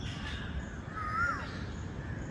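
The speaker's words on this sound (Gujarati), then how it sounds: "કાગડો બોલે છે" A single crow caws once at moderate distance over a quiet, low outdoor background hum at a zoo in Surat.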